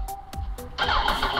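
A car called Shelby, checked for a weak battery, clicks a few times and then its engine catches and runs steadily, close by and fairly loud.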